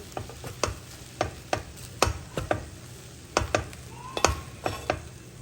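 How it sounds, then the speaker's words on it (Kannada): A spatula stirs cooked rice into a seasoned mixture in a pan for a home-cooked Indian dish, giving a steady run of close scraping and clicking strokes at an uneven rhythm, with no voices. "ಇವಾಗ ಇದನ್ನು ಚೆನ್ನಾಗಿ ಮಿಕ್ಸ್ ಮಾಡ್ಕೊಂಬಿಡೋಣ"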